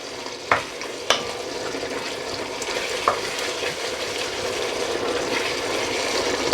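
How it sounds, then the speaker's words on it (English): Turmeric and coriander powder are stirred into aloo gobi in a pan over a steady close sizzle, with a few sharp knocks of the utensil against the pan early on. "then the turmeric powder and the coriander powder, and just give that a mix"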